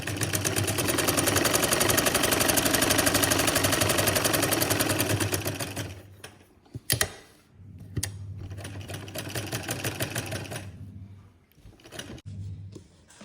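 A sewing machine runs a fast, even stitch while sewing a double seam on gloves, with a steady mechanical chatter that stops and restarts several times in short bursts.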